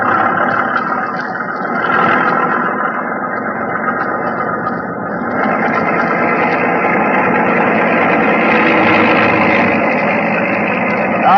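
Police boat on the Thames pushed to full throttle in fog, engine droning loud and continuous with a distorted, rising tone as it builds speed.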